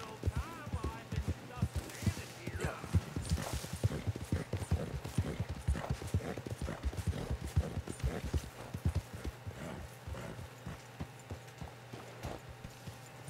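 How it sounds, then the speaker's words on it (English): Horse hooves clip-clop in the Red Dead Redemption 2 video game, a steady stream of close, rhythmic hoofbeats at a walking pace that continues throughout, fairly quiet overall. "go ahead and hitch the horse"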